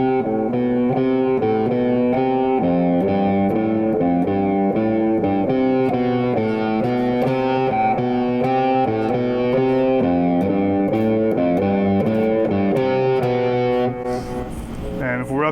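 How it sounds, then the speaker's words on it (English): Distorted electric guitar plays a riff at full speed, a loud, steady chugging pattern of repeated notes that runs continuously, alone without talk, before trailing off at the end. "We're up to speed, a little distortion, getting this angry."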